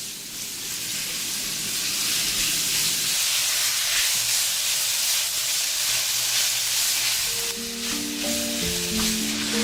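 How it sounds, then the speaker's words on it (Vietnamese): Snails stir-fry over medium heat with spices, giving a loud, steady sizzle and hiss that runs throughout, with a faint scrape of stirring near the end. "Xào với lửa vừa"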